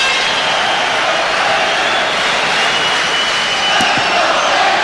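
Dense, steady roar of a large hockey arena crowd at a 1986 Stanley Cup semifinal between Montreal and the New York Rangers, loud and unbroken throughout, with a couple of brief sharp knocks toward the end.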